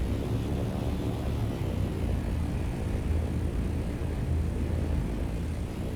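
An aircraft flyby in the video game Dune: Awakening, heard as a steady, even engine rumble and roar that fills the whole stretch without any clear rise or fall.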